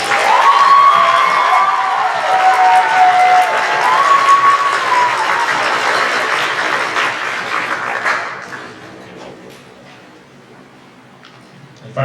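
An audience applauding at a middle school percussion concert, a full round of clapping with some cheering and whoops that dies down after about eight seconds, leaving quieter room noise.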